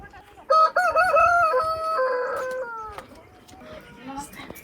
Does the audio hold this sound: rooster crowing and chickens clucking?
yes